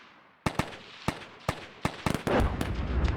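Sharp infantry rifle shots crack in a military tank video game, GHPC, starting as spaced single bursts and then thickening into a denser rattle of returning fire over a distant rumble, with no talking.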